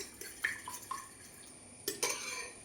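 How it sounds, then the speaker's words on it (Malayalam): Fork clinking against a bowl while beating eggs, a few light scattered taps followed by two sharper clicks near the end, close and quiet with no talking. "ഒരു ഫോർക്ക് വെച്ചൊന്ന് മിക്സ് ചെയ്യാം"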